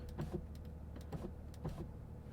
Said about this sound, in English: I'll just actually put this window down a little bit